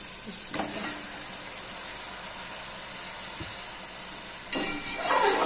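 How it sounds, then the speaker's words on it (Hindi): Roughly a kilo of beef frying with masala for pulao, a steady hissing sizzle with a couple of sharp stirring bursts, the second swelling louder toward the end. "गोश्त बहुत अच्छे तरीके से फ्राई हो गया है।"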